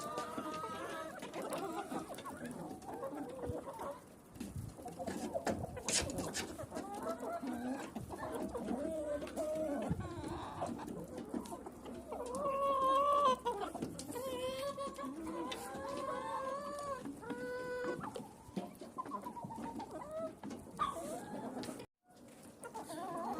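Chickens and roosters cluck steadily throughout, several birds close by, with occasional louder squawks and calls layered over a busy farmyard background.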